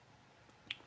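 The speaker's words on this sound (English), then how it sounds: "I'm going to clip it down here." A K'NEX piece on a model Screamer carnival ride clips into place with one sharp, faint snap near the end, otherwise near silence.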